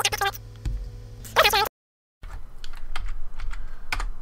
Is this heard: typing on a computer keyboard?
yes